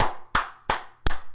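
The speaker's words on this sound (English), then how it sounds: "Were you guys just like clapping in front of each other's faces?" Four sharp claps, evenly spaced and close, ring out one after another with brief quiet gaps between them.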